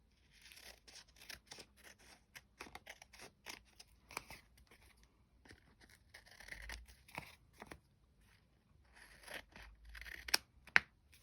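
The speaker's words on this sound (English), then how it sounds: "And then we'll just trim round a whole lot, get those odd bits off." Scissors snip and trim the edges of a paper junk mail envelope up close, a quiet, irregular series of crisp cuts with small rustles and crinkles of paper between them.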